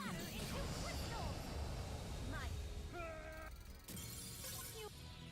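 Cards bursting into crystal shards in the Yu-Gi-Oh! Duel Links card game, a bright glassy shatter with chiming sparkle effects over game music, with talking around it.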